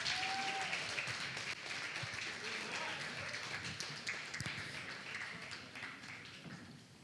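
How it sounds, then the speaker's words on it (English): Wedding guests applaud together at a reception, a dense, steady wash of clapping that holds for about seven seconds and slowly thins toward the end, with no voices standing out. "Mr. and Mrs. Robinson, let's give them a big round of applause."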